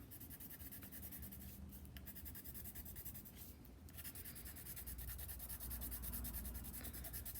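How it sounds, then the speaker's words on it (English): A colored pencil scrapes steadily across paper, a continuous close rubbing scratch with two brief pauses, yellow petals being filled in on a sunflower drawing. "I'm gonna color in with my colored pencil, okay?"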